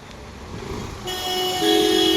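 Monday street traffic near Kashmere Gate ISBT in Delhi, a moderate roadway hum with vehicles passing, building toward a sustained car horn near the end.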